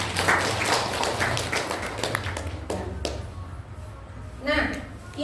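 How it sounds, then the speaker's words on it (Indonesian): An audience claps for a few seconds at a health talk on Hajj pilgrims, the applause fading as a voice carries on talking over a low hum. "tepuk tangan untuk Bapak."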